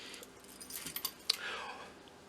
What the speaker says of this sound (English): my keys are always clipped to my belt, and I carry them with me all the time